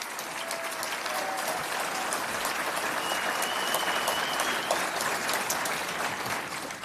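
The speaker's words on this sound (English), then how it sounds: "Thank you for the applause coming in for the Premier" A town hall audience in Red Deer, Alberta, applauds the Premier, a dense, even wash of clapping from a large crowd heard from a distance at moderate volume, steady throughout with no voices on top.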